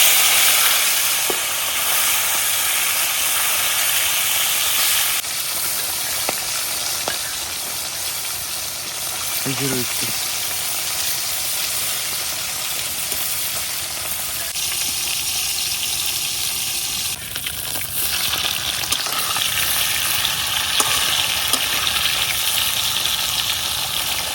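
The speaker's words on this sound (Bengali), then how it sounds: "এখন মাছগুলারে একটু ভাজে নিয়ে" Constant hiss of small fish with turmeric and salt frying in oil, fairly loud and steady throughout, with faint background hum and a brief low murmur partway.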